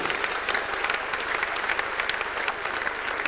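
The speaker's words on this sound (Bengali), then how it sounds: "একটা জোরদার করতালি হবে" Audience applause at a Destiny 2000 corporate celebration, a dense, steady wash of many hands clapping together, loud and sustained throughout.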